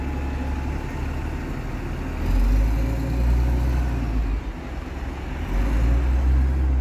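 A Scania bus pulls away from Kirkcaldy bus station with a steady low diesel rumble that swells and deepens as it moves off, heard fairly close with no talk.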